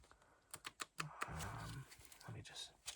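Non-gloss playing cards shuffled at close range in a quiet room, a few sharp riffling bursts and snaps followed by a longer continuous riffle, with soft handling sounds between.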